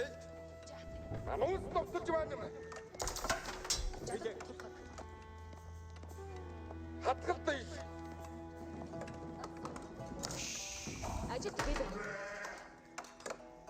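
Sheep bleat repeatedly in the real-time strategy game Age of Empires 4 as villagers gather the flock near pastures, several overlapping calls over in-game ambience, with hoof-like clip-clops and someone talking through much of it.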